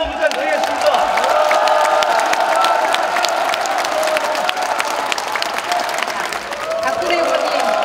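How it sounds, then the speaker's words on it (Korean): Loud, dense applause and cheering from a large crowd at a political rally for Park Geun-hye with local and regional council members, continuous clapping with shouts and whoops throughout. "큰 박수로 다시 한번 부탁드리겠습니다"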